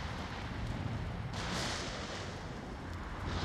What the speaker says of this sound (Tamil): எவனோ வெடிக்கிறாங்க.